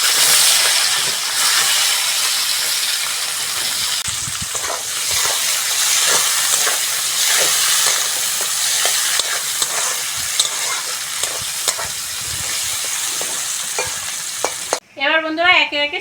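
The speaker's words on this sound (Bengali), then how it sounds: "ওই তেলের মধ্যে গোটা শুকনো লঙ্কা আর গোটা গরম মশলা দিয়ে দেব, সঙ্গে দেব পেঁয়াজ" Whole dried chillies, whole garam masala and onion frying in hot oil, a loud, bright, continuous sizzle and hiss with irregular stirring scrapes and taps, close up, ending with a brief burst of music.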